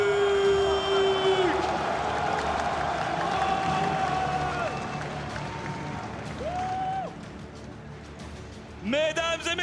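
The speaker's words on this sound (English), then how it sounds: "une dernière salle d'applaudissements pour le Fnatic" An arena crowd at an esports semifinal claps and cheers for the Fnatic team in a dense, sustained wash of applause, while an announcer's voice rings over a PA with whoops rising near the end.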